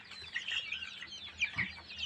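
Desi chickens cluck and chirp close by in a busy, continuous chorus of overlapping calls.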